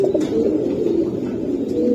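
A rooftop-flying Pakistani pigeon coos in steady, overlapping low calls, fairly close and continuous with no talk.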